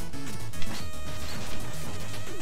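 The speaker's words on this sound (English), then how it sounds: "You literally just smashed a motherfucker with another motherfucker." In the Shovel Knight video game, one enemy is smashed into another, giving a couple of sharp crash hits over busy game music.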